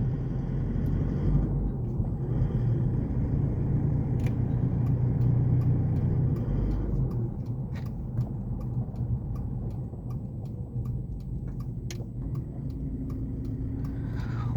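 A 2012 Isuzu KB300 LX D-Teq diesel pickup drones from inside the cabin, low steady engine rumble with faint repeated ticking clicks, the note easing off after the first half, no voices.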